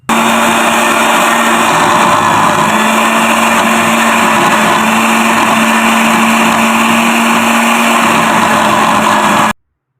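An electric mixer whirs steadily through chicken mince with green chillies for reshmi seekh kebab, a continuous, loud motor drone that holds unbroken for about nine seconds before cutting off.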